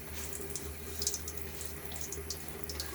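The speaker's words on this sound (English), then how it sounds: "All right, a little splash on my face again." Water runs and splashes at a sink during a wet shave with a Gillette Sheraton razor and Cella soap. A soft, continuous trickle carries small bright splashes, close and fairly quiet, with no voices.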